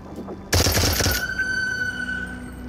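A rapid burst of Glock pistol gunfire in the video game Into The Radius, loud and close, about half a second of dense shots that cut off and leave a ringing tail.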